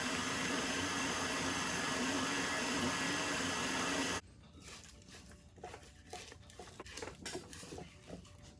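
An electric hand mixer blends pure almond and lemon extract into Southern tea cake batter, a loud, steady close whir for about four seconds that cuts off abruptly, followed by soft clinks and taps against the bowl.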